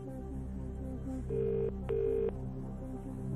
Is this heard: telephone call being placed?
yes